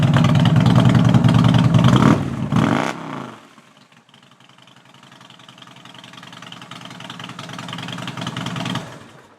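A Harley-Davidson Road King engine with a broken fuel line roars loudly for a couple of seconds, sputters briefly, then drops to a steady, lower rumbling idle that slowly builds before cutting off.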